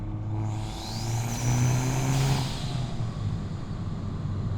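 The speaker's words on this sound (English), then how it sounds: "That dump valve is so loud" A Hyundai i30 N engine revs loudly nearby with a rising whoosh and hiss as the turbo dump valve releases pressure, engine rumble continuing throughout.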